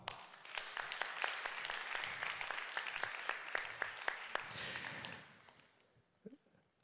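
An audience applauds at an awards ceremony honouring a Polish diaspora organisation's sponsor: steady, dense clapping with sharp individual claps, fading out near the end into near silence.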